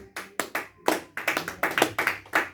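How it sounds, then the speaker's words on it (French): A church congregation applauds in a run of quick, uneven bursts of hand clapping, close and lively, each burst sharp and fading before the next, with no voices over it. "Est-ce qu'on peut acclamer?"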